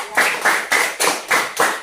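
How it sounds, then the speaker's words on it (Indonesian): Classroom clapping during a lesson, students striking hands together in a brisk, even rhythm of about six sharp beats, near and fairly loud. "tepuk tangan sekali"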